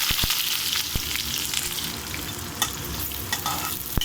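Chopped onions fry in hot oil with popping mustard seeds and cumin for a dondakaya and chana dal curry, giving a dense, steady sizzle with a few sharp crackles and light stirring.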